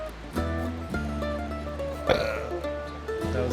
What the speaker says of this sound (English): Okay, hold on, I gotta burp.